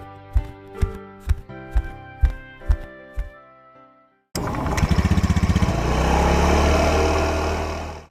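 An animated Honda Vario motorbike: a few rhythmic mechanical clacks and a pause, then the engine catches and settles into a loud, steady buzzing idle that runs on alone.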